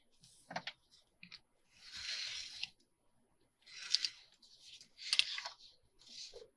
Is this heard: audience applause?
no